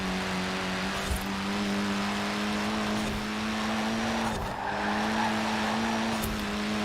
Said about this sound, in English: And I still can do half throttle around the corner with this car, which is not gonna lie, not a lot of cars can do that.